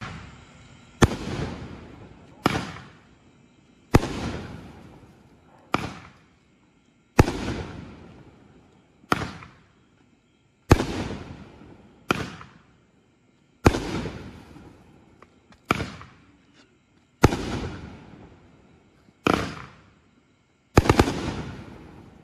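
Croc Bite fireworks cake firing a steady series of about a dozen loud shots, each a sharp bang followed by a crackling tail, evenly spaced over roughly twenty seconds.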